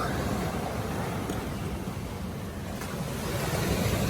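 Ocean waves wash onto a rocky shore in a continuous, loud roar of surf, mixed with gusty wind buffeting the microphone, with no voices over it.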